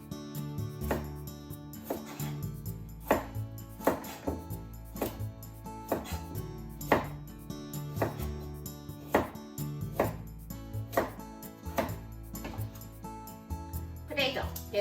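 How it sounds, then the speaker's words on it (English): A knife chops a peeled vegetable into bite-sized pieces on a cutting board, giving a steady series of crisp, close thunks roughly once a second, with faint kitchen background. "Cut the top and the bottom off. And just cut it into bite-sized pieces."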